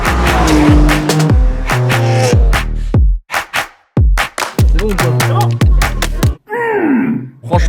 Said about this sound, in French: on va se retrouver là-bas pour un essai sur circuit de cette GTR qui est complètement nouvelle avec la prépa